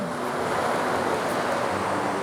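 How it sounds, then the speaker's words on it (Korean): Sea waves wash continuously along the shore beside a walkway on Seungbongdo island, a dense, even surf roar with a hint of wind and no talking. "이렇게 옆에 바닷가거든요."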